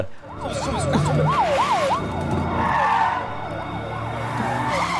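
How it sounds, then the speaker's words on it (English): A police car siren from a Korean TV drama wails in rapid rising and falling sweeps over a steady rumble of car and road noise, staying loud and close throughout. "you got the lights and the siren on"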